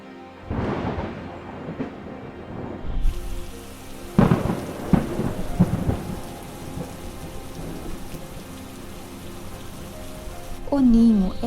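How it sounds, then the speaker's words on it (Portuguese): Violent tropical thunderstorm in the Amazon rainforest: steady heavy rain hisses throughout while several loud, close thunderclaps crack and rumble, one early and a cluster in the middle, with another swell near the end. "Na Amazônia, as tempestades são violentas, como em poucos lugares na Terra."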